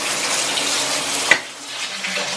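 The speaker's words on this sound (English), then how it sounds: "See, the water pressure, I don't know, for some reason it's not that strong." Water runs steadily from a newly installed faucet in an apartment, a continuous close hiss of moderate pressure with a brief clunk partway through.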